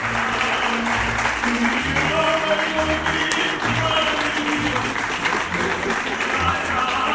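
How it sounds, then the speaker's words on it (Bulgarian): Guests at an outdoor wedding ceremony applaud the newlyweds, a continuous wash of clapping heard over a low musical backdrop, steady and moderately loud throughout. "моля отново за вашите бурни искани аплодисменти за най-младото семейство Димови"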